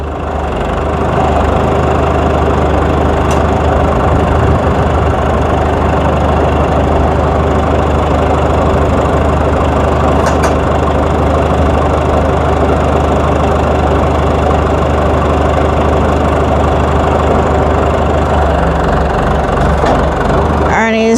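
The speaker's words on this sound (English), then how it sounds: "Arnie's just putting his grippers back on the tractor" A farm tractor's engine runs at a steady, low idle throughout, a constant rumble close by, with a couple of faint clinks from nearby work.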